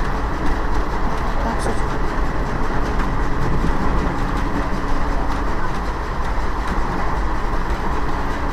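The 13431 Balurghat Express passenger train runs on rails between Nimita and Dhulian Ganga, heard from on board as a loud, continuous rolling rumble with a steady clickety-clack of wheels over track joints.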